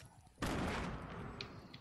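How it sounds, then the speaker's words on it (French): Grenade fire aimed at the player in Fortnite, a sudden loud blast followed by a dense crackling burst of explosions and gunfire, close and sustained for over a second. "il y a un mec qui me tire des grenades"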